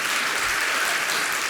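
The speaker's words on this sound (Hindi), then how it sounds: "तालियां कम बज रही आपकी, बजाइए अच्छे से, ताली बजाइए अच्छे से।" An audience at a religious question-and-answer gathering in Shikharji, Jharkhand, breaks into dense, continuous applause, a steady wash of many hands clapping together without a break.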